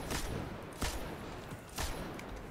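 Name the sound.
single gunshots in the video game Destiny Nightfall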